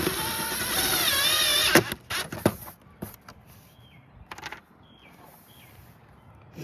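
A power driver whirs as it runs self-tapping, coarse-thread pointed screws into the Z28 splitter of a 2015 Camaro SS, starting with a steady loud whine and then giving way to scattered clicks and handling noises.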